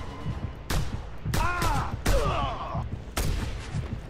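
Gunshots in Just Cause 2 ring out in four sharp, loud reports spaced about a second apart, with whistling, wavering tones sounding between the second and third shots.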